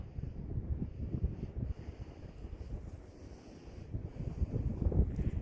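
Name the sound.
wind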